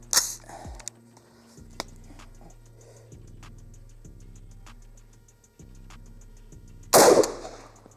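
A sharp gunshot fired at a target roughly 50 to 60 yards away, one loud burst near the start and another near the end, with faint ticks and clanks in between over a quiet background.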